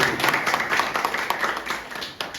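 Scattered audience clapping at an arm wrestling event in Mizoram, a brief, moderately loud patter of hands with faint voices mixed in.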